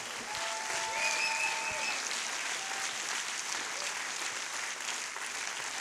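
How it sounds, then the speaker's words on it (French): A large audience at an opening ceremony gives sustained, even applause, a soft continuous wash of clapping heard from a distance with a few faint tonal sounds over it. "On les applaudit encore une fois."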